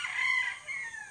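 Chickens in a newly built coop, a brief faint rooster-like call ringing over quiet surroundings.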